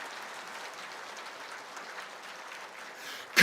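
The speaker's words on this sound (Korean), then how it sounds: "박수 한번 쳐주세요" A church congregation applauds during a Sunday sermon, honoring Korean miners and nurses sent to Germany; steady, fairly faint clapping holds evenly before a sharp louder burst right at the end.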